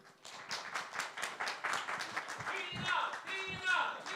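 An event crowd at a hackathon regional final claps to welcome a leader onstage, rapid rhythmic hand claps repeating throughout, with voices and some tonal sound mixed in.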